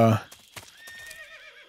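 A horse in the video game Metal Gear Solid 3 lets out a high, wavering neigh after a heavy thump and a few hoof clops, heard fairly close and fading out.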